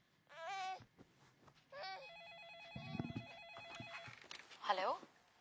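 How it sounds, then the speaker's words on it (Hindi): A phone rings indoors in a home with small children, its warbling electronic tone sounding in short repeated bursts between gaps, joined by a baby's cries and a child's babble toward the end. "फोन बच रहा है"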